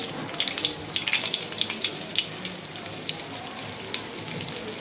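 Rava-coated bombil fish frying in hot oil, a steady close crackling sizzle with scattered sharper pops throughout, no talking.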